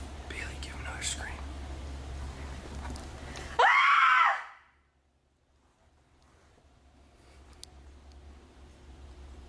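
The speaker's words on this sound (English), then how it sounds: "give him another scream." A person screams once during a haunted house investigation, a loud, high, wavering cry that bursts out abruptly and cuts off after about a second, set against whispery background noise and followed by near silence.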